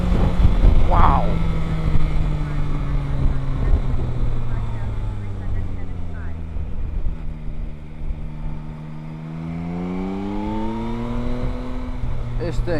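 A 2022 Yamaha Tracer 9 GT motorcycle engine hums steadily while riding, its pitch dropping and then climbing again as the bike accelerates, with wind rush throughout.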